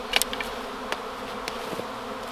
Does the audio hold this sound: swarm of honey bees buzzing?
yes